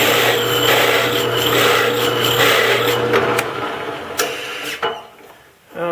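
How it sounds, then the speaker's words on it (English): A hole saw grinds into wood to widen an existing hole, a loud steady whirring rasp that runs for a few seconds then winds down and stops, with a few knocks at the end. "I'm just going to use the hole saw again to make the outside of this hole a little bit bigger"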